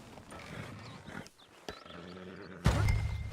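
A horse in Red Dead Redemption 2 snorts and stamps amid game ambience, with a louder burst of movement and breath near the end, fairly close.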